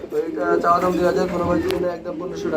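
Pigeons at a pigeon sale coo in soft, throaty, repeated murmurs, with a voice talking over them.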